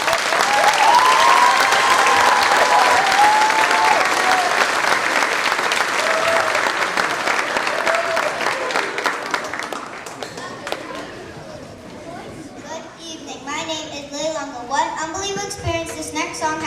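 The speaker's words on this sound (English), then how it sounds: "Please give them another round of applause." A school concert audience at Thames River Magnet School gives students another round of loud, sustained applause after their song, which fades out as voices and children's chatter take over.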